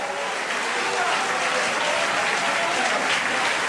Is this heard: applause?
yes